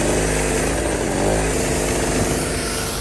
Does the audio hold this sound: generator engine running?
yes